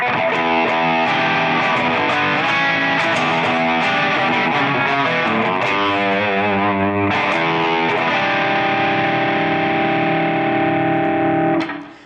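A heavily distorted Fender Modern Player Telecaster on its bridge pickup, double coil, plays loud, sustained chords and ringing notes, bright and gritty, continuous for about twelve seconds before cutting off.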